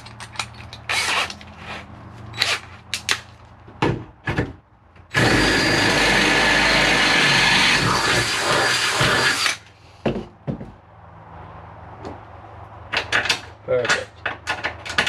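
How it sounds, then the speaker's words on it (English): A power drill bores out a mount on a small Toyota truck build, a loud sustained grinding whine of about four seconds in the middle, framed by sharp metallic clanks and knocks before and after. "So we quite literally need to drill out that."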